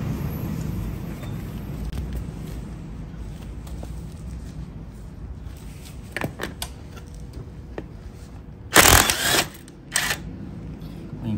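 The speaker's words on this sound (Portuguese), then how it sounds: "então vou usar o impacto agora" An impact wrench rattles in two short, loud bursts near the end while loosening the wheel on a Yamaha 50cc motorcycle with no brake holding it, after a stretch of quiet workshop shuffling.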